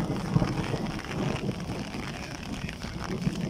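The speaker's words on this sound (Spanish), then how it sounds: "Aparte que ya se puso a llover." Rain falling outdoors in a botanical garden, a soft, steady patter mixed with light wind buffeting on the microphone, moderately quiet throughout.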